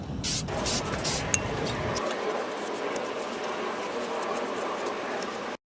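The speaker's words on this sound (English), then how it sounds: "I'm going to take some brake cleaner and clean up this drum here." Brake cleaner hisses from an aerosol can onto a brake drum in one continuous close spray lasting several seconds, with a brief clatter just before it starts.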